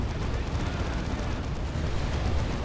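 Leman Russ tank las cannons firing in the Dawn of War 2 battle game, a dense continuous rumble of heavy weapon fire and blasts filling the low end, steady and loud throughout with no clear separate shots.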